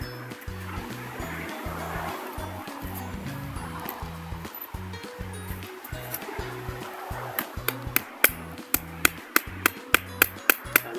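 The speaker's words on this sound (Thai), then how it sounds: "แน่นแล้วก็ตอกไปครับ" Pieces of coconut shell are hammered together with repeated close taps, building into sharp, evenly spaced knocks toward the end over a low background hum.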